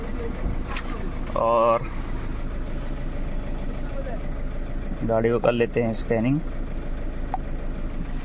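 A Skoda Rapid diesel with an engine misfire and blinking glow plug light idles steadily with a low, even rumble, while someone talks briefly over it in two short bursts.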